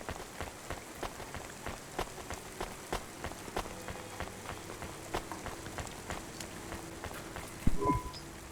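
Rain falls steadily in the rainy city streets of the video game Cloudpunk, a faint soft patter with scattered sharper drips tapping on surfaces, and a brief louder knock near the end.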